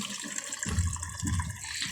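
Water poured into a pot of rice before cooking: a close, gurgling splash with two fuller surges of liquid.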